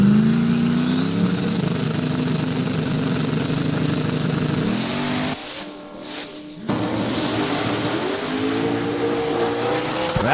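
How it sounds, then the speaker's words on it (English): A Chevy S10 drag racing down the strip at Saskatchewan International Raceway, its engine roaring loud and close with rising pitch through the gears and a brief drop in the middle. "Well, Colin going down the track, keeping her straight."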